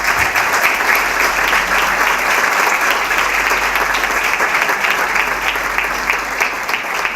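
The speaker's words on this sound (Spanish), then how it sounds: "Un fuerte aplauso para ellos." Loud, steady applause from a large university audience at a centenary Reform week event in Argentina, continuous dense clapping with a faint crowd murmur and no speech.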